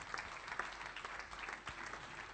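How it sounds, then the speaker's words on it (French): A church congregation claps in brief, dense applause, an even patter of many hands at moderate distance with no voices over it. "Applaudissez le Seigneur Jésus."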